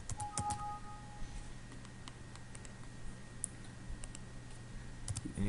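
A single computer key is tapped for enter among a few faint, sparse clicks against a quiet room hum, with no voices.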